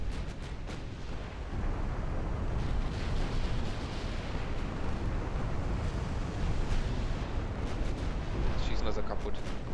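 Naval cruiser secondary artillery in the warship game Ultimate Admiral Dreadnoughts, a dense continuous rumble of repeated gunfire and explosions with a wash like surf, steady and loud throughout.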